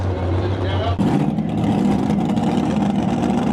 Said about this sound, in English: they've got a Burnout box going on here next to us